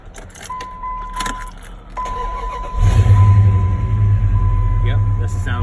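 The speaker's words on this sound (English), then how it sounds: "that's the sound of my truck" A truck engine cranks and catches, then idles steadily with a low rumble; a tone chimes early on and keys jangle before the start.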